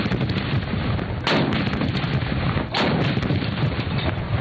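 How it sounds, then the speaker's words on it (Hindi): Cannon salute for Pakistan's Independence Day: deep booming reports rolling over a dense, noisy background, with two sharper blasts standing out, loud and continuous throughout. "दिन का आगाज वफाकी दारुल हुकूमत में 31 और सूबाई दारुल हुकूमतों में 21-21 तोपों की सलामी से हुआ।"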